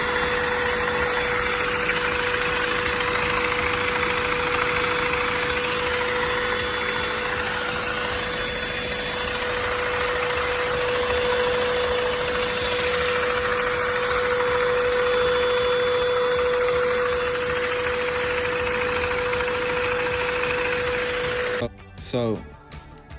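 A LEGO V4 engine model runs continuously with a steady, even mechanical whir and a constant high tone, then cuts off abruptly near the end.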